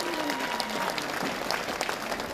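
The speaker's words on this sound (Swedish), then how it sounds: "med en stor applåd" Audience applause at an outdoor celebration of a Swedish town's 400th anniversary, a steady dense patter of many hands clapping at moderate distance, with no voices over it.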